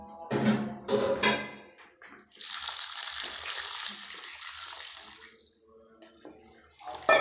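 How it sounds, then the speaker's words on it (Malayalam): Two measures of water are poured into a pot of cooking chicken. A couple of short splashing bursts come first, then a sustained rushing pour of several seconds that tapers off, with a brief splash at the end. "രണ്ട് പാട്ട വെള്ളം അളന്നിട്ട് ഒഴിക്കും"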